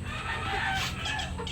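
Breeder chickens cluck close by in a backyard flock, busy overlapping calls over steady background noise, with a rooster-like call rising briefly in the middle.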